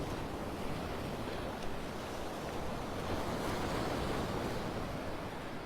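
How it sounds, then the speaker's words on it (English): Stormy surf breaks continuously along a beach that is being washed away, a broad, constant roar of water with wind rushing across the microphone. "Even though these waves are washing our beach away, they're still fun to watch"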